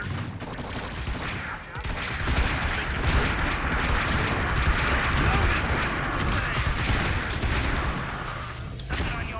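Cannon fire in the strategy game Sovereign Saga, a dense continuous barrage of booming shots rolling for several seconds, loud and close, with a voice briefly heard.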